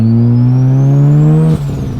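A Bridgeport-ported Mazda RX-7 with a 13B rotary engine and big turbo accelerates hard, its loud buzzing drone climbing steadily in pitch before a sudden break as the revs drop at a gear change, heard close from inside the car.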